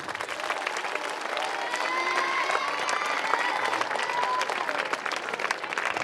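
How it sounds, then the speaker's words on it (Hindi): A crowd at a school alumni meet gives loud, sustained applause, a dense wash of clapping with a few cheers and voices mixed in, steady throughout. "एक बार और जोरदार तालियां हो जाए"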